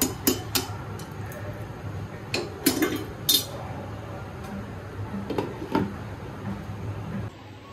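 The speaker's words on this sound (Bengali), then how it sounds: "এখন নেড়ে ঢাকনি দিয়ে দিচ্ছি" A pot of chicken tehari being stirred with a spoon and covered with a lid: scattered metallic clinks and scrapes come in small bursts, close and moderately loud, over a low kitchen hum.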